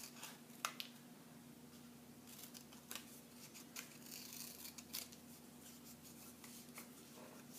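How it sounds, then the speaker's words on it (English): Scissors snip through paper in short, quiet, irregular cuts as a kindergarten art shape is cut out, with faint rustling of the paper being turned between snips. "Do you see how my scissors stay in the same place?"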